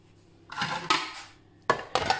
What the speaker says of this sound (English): And we have to gently mix it together until smooth